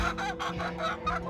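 Backyard coop chickens clucking and calling, several overlapping bursts in a quick rhythmic run, fairly close and moderately loud, with no talking over them.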